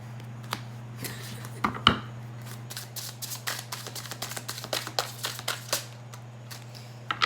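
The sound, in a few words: tarot cards being pulled and laid out for a Celtic cross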